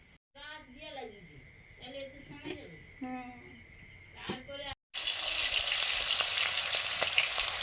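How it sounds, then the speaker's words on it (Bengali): Magur fish frying in a pan: a voice talks over a quiet kitchen first, then a loud, dense, steady sizzle sets in and keeps going. "এবারে মাছ ভাজা শুরু করেছি।"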